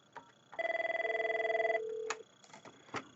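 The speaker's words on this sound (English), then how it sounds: "We'll make a call inbound to Linda's phone" An office desk telephone on a 5410/5420 system rings with an inbound call: a steady electronic trill lasting about a second, followed by a few soft clicks and taps.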